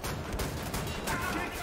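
Shotgun fire in the shooter game Wolfenstein The New Order: dense, loud, overlapping blasts and impacts filling a brief stretch, with game noise throughout.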